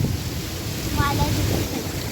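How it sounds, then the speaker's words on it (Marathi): Heavy downpour over Dubai, a dense steady wash of rain with wind buffeting the microphone and a low rumble, holding a constant level throughout. "बापरे बाप एवढा पाऊस कधीच नाही पडला दुबईमध्ये"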